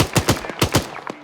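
Rapid bursts of incoming gunfire in the military shooter game Arma 3, about eight sharp, loud cracks in quick uneven succession over just over a second.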